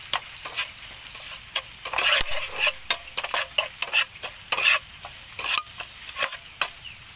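Garlic stir-fried in hot oil in a pan for a braised fish with tomato and ginger, with a soft continuous sizzle broken by repeated sharp scrapes and clacks of a utensil stirring close by.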